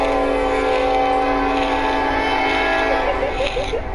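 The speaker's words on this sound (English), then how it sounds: "That's a loud train." Loud train passing, a sustained steady roar with a strong horn-like tone throughout, fading slightly near the end, with voices talking over it.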